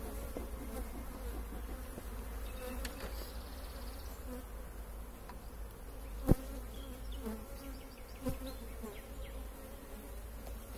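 Honeybees droning in a continuous close buzz during a beekeeper's inspection of an open hive, with a couple of brief knocks and clicks from handling the frames.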